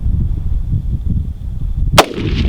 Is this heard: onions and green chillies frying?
no